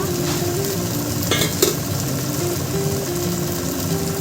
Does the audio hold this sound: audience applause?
no